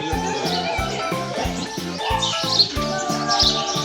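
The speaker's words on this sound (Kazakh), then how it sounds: "Қырғауылдар бар екен, әдемі." Pheasants at an animal park give rapid, evenly repeated calls in a steady rhythm, fairly loud and close, with other faint bird chirps around them.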